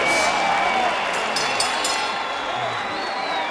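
Big arena crowd applauding and cheering at the end of a twelve-round championship boxing rematch between Rafael Marquez and Israel Vazquez, a dense steady roar of clapping and voices throughout with some shrill whistles.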